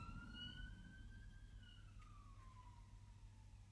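Emergency vehicle sirens wail faintly from outside, a gliding tone sweeping up and down over a low steady hum, distant and continuous.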